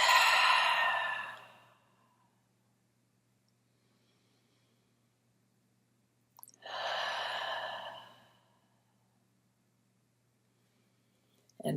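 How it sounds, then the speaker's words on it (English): Two slow, deep breaths during a relaxation exercise, each a long airy exhale of about two seconds, close and clear, separated by several seconds of near silence, with a third breath just starting at the end. "And breathe."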